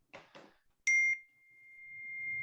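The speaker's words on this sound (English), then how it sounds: "Yeah, it's a text message." A phone chimes with a text message alert, a bright two-tone ding that rings out clearly and holds a long fading tone, following a few quiet knocks in an otherwise quiet room.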